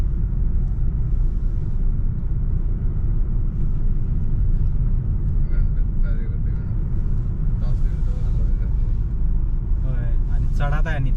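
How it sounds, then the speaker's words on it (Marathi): Heavy road traffic near Eibsee on a winter day sends a constant low rumble of cars driving past, loud and close, while voices briefly talk over it toward the end. "बापरे केवढं ट्रॅफिक झालंय."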